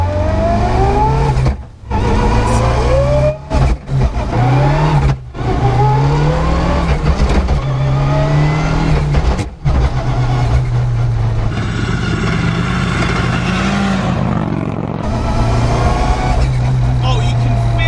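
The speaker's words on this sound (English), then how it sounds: "it sounds like an absolute fire-spitting rally car, which is what it is for the road" A road-going Mitsubishi Evo 6 rally car with a sequential gearbox and anti-lag roars loud and close, its engine revving and surging continuously for the whole stretch, with brief dips between pulls and voices underneath.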